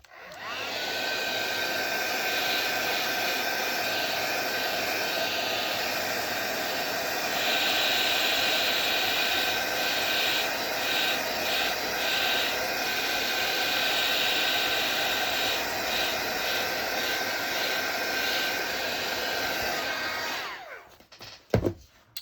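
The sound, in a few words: heat tool drying stamped card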